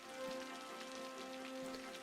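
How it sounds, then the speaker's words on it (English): Rain in a Cities: Skylines town falls steadily, a soft, even patter of drops with a faint tonal hum underneath, heard alone and fairly quiet throughout. "Even if it's raining at the minute."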